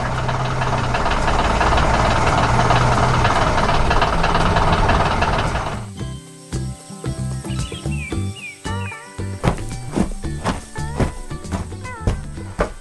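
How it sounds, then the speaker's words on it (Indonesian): Machine engines, likely a farm tractor, run with a loud, dense rumble for about six seconds, then give way to a quieter stretch of chirping birds and scattered clanks and knocks. "suara mesin bekerja"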